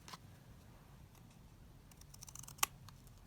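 Scissors cutting printed patterned paper for vintage-style tickets, faint quick snips and rustles close by, building to a few sharper cuts near the end, with no talking.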